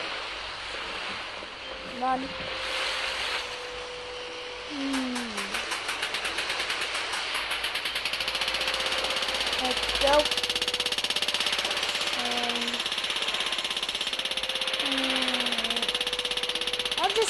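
A boat engine in a scuba diving video game drones steadily, with a rapid mechanical pulsing that builds midway, under game water ambience, short tonal effects and a person talking.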